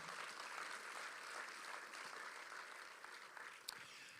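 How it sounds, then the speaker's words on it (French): An audience at the official presentation of the 2023 Tour de la Guadeloupe cycling race applauds steadily, a faint, distant wash of clapping with no talk over it. "On les applaudit très très fort"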